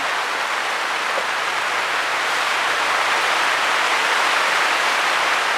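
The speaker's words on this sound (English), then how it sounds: "And there's the rain I was expecting" Steady, dense rain hissing continuously, heavy and close, with no voices or other sounds breaking through.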